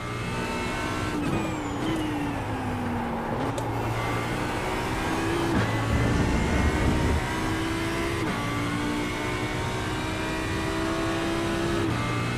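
Audi and AMG race cars in a sim racing video game at Road America roar continuously for about twelve seconds. The engine notes rise and shift as the cars rev, with several pitch sweeps and a steady, close drone.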